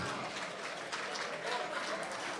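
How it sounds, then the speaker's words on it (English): An audience at a memorial anniversary event claps for arriving chief guests and dignitaries, a faint, continuous patter of many hands with a little crowd murmur mixed in. "May I request that we all put our hands together in a respectful round of applause when our chief guests and other dignitaries come in."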